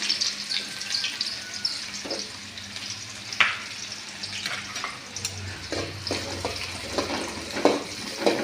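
Chopped onions frying in hot oil for chicken chili curry, a steady close sizzle with occasional clinks and stirring scrapes throughout.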